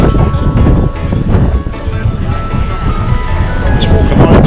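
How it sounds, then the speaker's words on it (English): Steady wind roaring across the open deck of a cruise ship at sea in the Red Sea, a continuous broadband rush with a faint engine hum underneath. "it is quite windy, but it's still beautiful"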